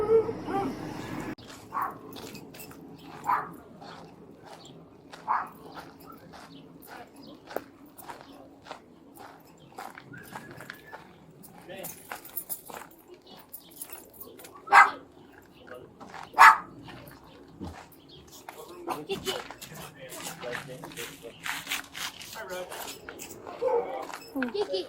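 A dog barks in scattered bursts, some sharp and close, between quieter yips and whimpers, with people talking and moving around throughout.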